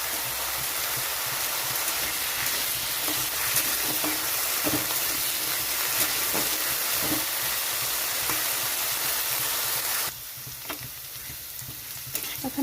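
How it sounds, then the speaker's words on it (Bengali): Steady hissing sizzle of potatoes frying in a pan, with occasional stirring clatter; the sizzle quietens briefly near the end. "আলুটা একটু ভাজা হয়ে গেছে"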